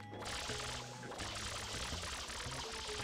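Water sprays from FLUDD in Super Mario Sunshine, a steady rushing, pouring hiss that runs continuously with a brief dip, under tonal game music and sound effects.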